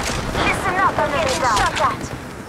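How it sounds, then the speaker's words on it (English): Gunfire in Apex Legends Mobile, with enemies shooting at the player: rapid bursts of shots and booms packed together at close range, alongside game voice callouts. "Enemies are shooting at me."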